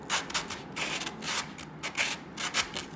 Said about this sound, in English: taking your piece and rubbing it quite firmly back and forth across the sandpaper